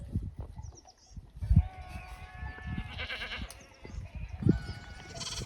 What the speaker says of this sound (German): Über weite Flächen voller fressender Ziegen ging es weiter nach Ujjayi.